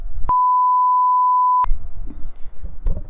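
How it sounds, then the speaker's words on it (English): A single steady censor beep, a pure sustained tone of about a second and a half, cuts in sharply and stops abruptly, followed by soft indistinct vocal sounds and breathing. "This YouTube beep."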